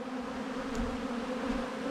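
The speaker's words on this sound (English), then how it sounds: "the bees are out doing their thing" Bees buzzing outdoors, a steady close drone holding at one even level throughout with no voices.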